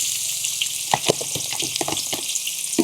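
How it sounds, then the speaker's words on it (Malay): Garlic, shallots and onions fry in hot oil with a bright, continuous crackling sizzle, broken by a few sharper pops and a ladle clink near the middle, heard up close without any voices. "Ni kita tumis bawang lah dulu."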